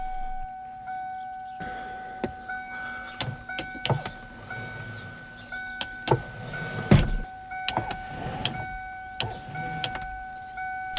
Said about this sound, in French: j'ai remis en place un moteur pour commander la rotation de la télé avec un vieux lève-vitre de BMW 46